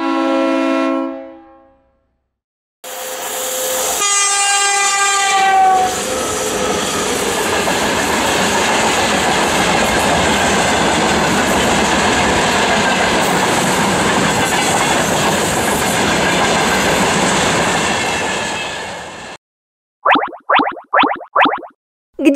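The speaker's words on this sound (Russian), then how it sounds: "Это грузовой поезд." A freight train rumbles past steadily for about fifteen seconds with a rattling, clattering roar, preceded by a horn blast and followed by a few short toots.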